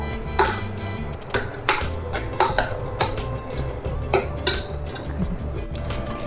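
Cooked jackfruit for Kerala erissery being mashed in a pot with a metal kitchen masher, giving repeated sharp knocks and clinks in an uneven rhythm, close and moderately loud.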